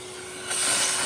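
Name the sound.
vacuum cleaner sucking up drilling debris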